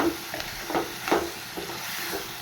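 Chicken curry with fenugreek leaves and tomato is stirred in a hot pan, giving soft, irregular scraping strokes over a gentle, steady sizzle.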